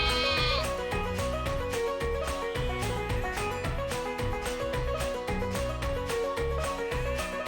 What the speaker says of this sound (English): Today, we're going to be learning about Sheep!